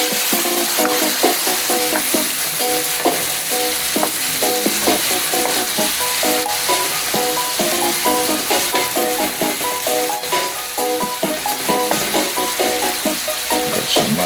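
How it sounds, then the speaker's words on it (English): Steady sizzling and crackling of curry chicken with papaya and vegetables sautéing in a hot pan, with light scraping from stirring, continuous and close. "Just let it saute a little bit."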